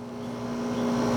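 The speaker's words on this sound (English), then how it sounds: "with the sound of that car" A steady engine hum with a droning tone, slowly growing louder as a vehicle approaches and passes close by.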